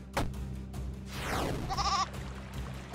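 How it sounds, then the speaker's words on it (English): A goat in a video game gives a short, bright bleat near the middle, heard over a sweeping tone and quiet background sounds. "A goat."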